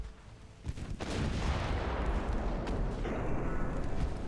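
Heavy naval gunfire from warships in the video game Ultimate Admiral: Dreadnoughts, a loud sustained rumble of cannon blasts that swells after a quieter opening and keeps booming without pause.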